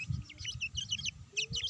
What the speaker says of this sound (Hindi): ये होचंती क्रॉस ब्रीड आसिल चिक्स गुड्डलू गुड्डलू